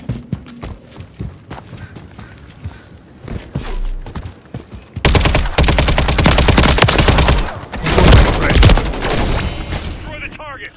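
Video game gunfire in a hardpoint firefight: sparse shots and footsteps at first, then a dense, loud burst of automatic fire and explosions that keeps going to the end.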